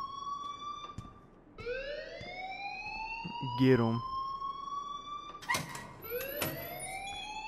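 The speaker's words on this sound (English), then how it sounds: "please turn off that alarm since that's your" School alarm in the video game Life is Strange, a rising-and-falling siren-like wail sweeping repeatedly, steady and fairly loud, with voices speaking over it.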